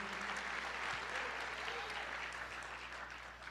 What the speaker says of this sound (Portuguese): Comece liberando a unção, aplaudindo o Senhor